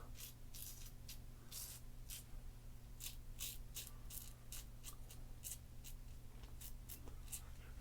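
A razor blade shaves close to the skin, making a rapid series of soft, crisp scraping strokes that repeat steadily over a low background hum.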